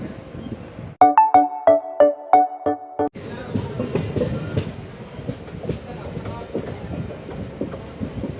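A train runs toward Perinad station on the Kollam–Kayamkulam line. A quick series of about eight sharp electronic beeps gives way to a continuous, moderately loud clattering rumble of the carriages, with a voice faintly present.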